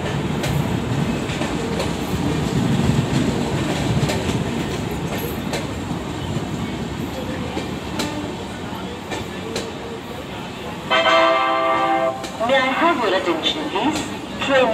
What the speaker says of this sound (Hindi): गोमती एक्सप्रेस लखनऊ से चलकर टुंडला अलीगढ़ जंक्शन गाजियाबाद के रास्ते मोजली दो पर आ रही है